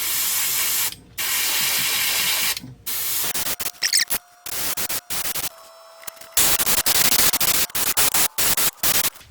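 An airbrush sprays color-shift paint onto eyes for a homemade frog fishing lure, loud close hissing bursts of varying length separated by short silences, with no talking.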